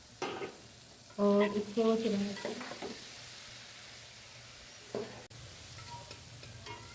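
Chopped tomatoes tumble into potatoes and cauliflower frying for aloo gobhi, giving a burst of sizzling and stirring. Someone speaks briefly over it, then a low steady fry continues with a couple of sharp knocks.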